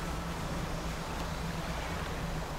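A boat engine idles in the Dredge video game as a faint, steady low drone beneath a soft watery hiss, constant and without any talk.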